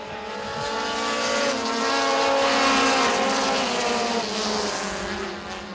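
Race cars battling around the track at Baer Field Motorsports Park during the 2019 season championships, a loud, roaring engine pack that swells to a peak and gradually fades as the cars sweep past, with no talking.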